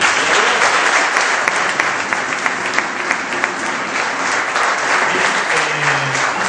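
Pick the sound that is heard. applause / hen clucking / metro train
applause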